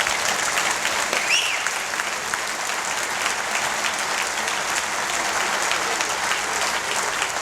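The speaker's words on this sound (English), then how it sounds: "How about I give them another great round of applause?" A banquet audience at a sports hall of fame induction gives a round of applause: dense, sustained clapping from many hands fills the room at a steady level for the whole stretch, with no break.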